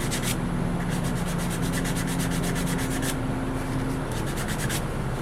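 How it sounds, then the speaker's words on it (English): A rough edge of wood is sanded with sandpaper for a crow totem, making a continuous, close, raspy rubbing with rhythmic back-and-forth strokes and no speech. "The sandpaper really is helpful in taking that off."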